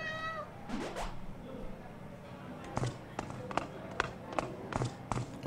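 A single drawn-out meow from a cat in the video game A Space for the Unbound rises and falls, followed by a series of light taps and soft steps, with some talk mixed in.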